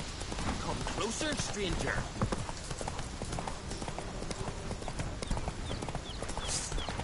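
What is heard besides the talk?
horse galloping in a video game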